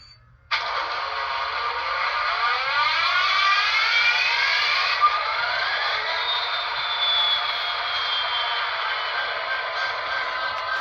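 Union Pacific 4000 locomotive running its startup sequence: a steady, loud hissing roar cuts in abruptly and holds, threaded with rising and falling whistling tones, without talk.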